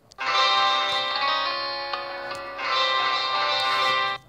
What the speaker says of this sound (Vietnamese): Còn đây là tiếng chơi đàn.